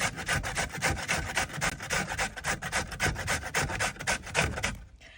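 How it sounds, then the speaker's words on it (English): Rapid, rhythmic rasping of beetroot being grated on a large grater over a pan, quick evenly spaced strokes close up, ending abruptly. "I grate the beetroot on the separate pan."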